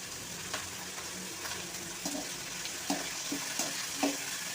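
Brinjal (eggplant) cooking in oil in a pan, a quiet, steady sizzle with a few soft scrapes and taps of a stirring spoon.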